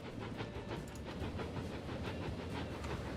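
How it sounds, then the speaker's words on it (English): Passenger train arriving in the video game Transport Fever, a faint continuous rumble with soft rhythmic clicking of wheels on track and a light hiss, no voices. "So here comes our train with another"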